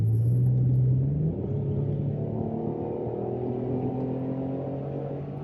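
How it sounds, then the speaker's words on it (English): A 2002 MG ZT-T V6 180+ automatic estate with a four-tip stainless exhaust, driven in sport mode, gives a loud, steady engine rumble with a brief rising rev near the start, heard alone without talk. "yes, it's a V6 engine, and yes, it's got a 4-tip, you know, stainless exhaust on it and all that."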